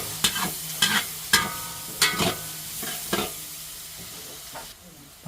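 Garlic sautés in a pan for pork caldereta, a steady soft sizzle broken by several sharp scraping stirs of a utensil against the pan, close and clear.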